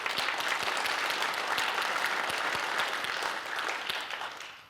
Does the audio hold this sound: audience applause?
yes